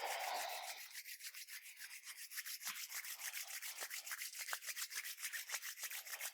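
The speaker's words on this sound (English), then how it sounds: "begin to create it by rubbing the palms together" Two palms rub briskly together in a quiet room, a soft, fast, even swishing that repeats in a steady rhythm for several seconds with no voice over it.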